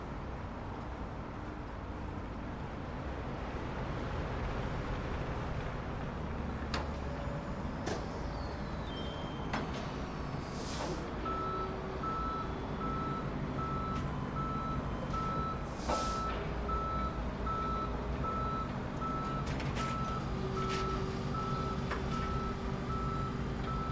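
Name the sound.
tow truck reversing beeps in a video game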